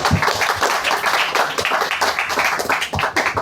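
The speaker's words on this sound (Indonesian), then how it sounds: "Tepuk tangan, luar biasa" Audience clapping at a talk for Pandega scouts, a busy, uneven burst of many hands with quick rhythmic pulses that fills the space and stays loud throughout.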